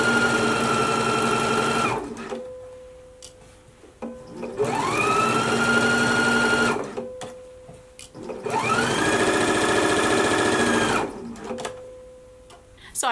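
A sewing machine stitches a jacket sleeve seam in three sustained runs, each rising to speed and then stopping, with short quiet pauses and light handling noises between them.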